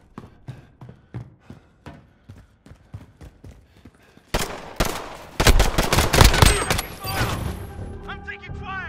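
Gunfire in Call of Duty: Modern Warfare during a 2v2 pistol match: sharp single shots at a steady rhythm give way to a loud dense burst of rapid fire and impacts, with speech in the mix.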